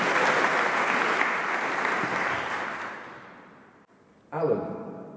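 Wedding guests applaud during the bride's brother's speech, a loud wash of clapping that fades over about four seconds into near silence before a voice resumes close by.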